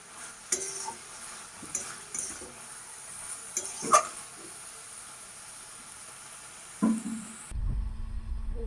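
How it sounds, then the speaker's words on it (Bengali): Spiced curry is sautéed and stirred in a pan, a quiet steady sizzle with scattered scraping spoon strokes, then the lid sound and a louder hiss near the end. "দেখো কষানো হচ্ছে মশলার মধ্যে তরকারির সঙ্গে মিশে গেছে"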